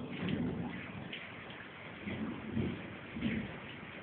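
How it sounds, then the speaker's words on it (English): Heavy rain pours in a steady broadband wash, with low rumbling swells that come and go, near and fairly loud with no talking. "That is some serious rain."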